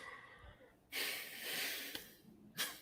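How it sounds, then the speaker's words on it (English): A person takes a deep breath: a long, airy inhale of about a second follows a brief pause, then a shorter breathy exhale, close to the microphone with no words over it. "All right, deep breath."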